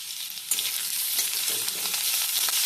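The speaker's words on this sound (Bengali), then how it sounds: "আবার একটু নেড়ে চেড়ে নেওয়া হচ্ছে।" Potatoes with grated ginger and green chilli fry in hot oil for a vegetarian soybean dish, giving a steady, dense sizzle with light scrapes as the mix is stirred, close and continuous without talk.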